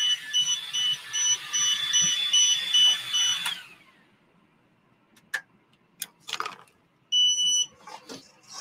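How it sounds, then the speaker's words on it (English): A smoke alarm set off by smoke from a Creality Falcon 2 40W laser engraver beeps in rapid high chirps for several seconds, stops, then gives another short burst amid scattered clicks and handling noises. "Clear that alarm."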